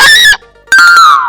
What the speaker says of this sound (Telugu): door sound